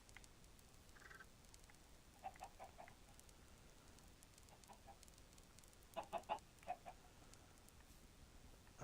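Faint Minecraft chicken clucks sound in a few short bursts, a single cluck early on and a quick cluster later, set against a quiet, hushed background.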